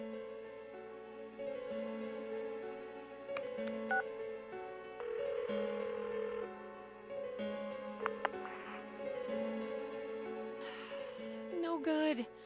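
Phone dialing tones in Persona 4: a series of beeps over a steady hum of background game music, ending in a short burst of bright electronic chirps.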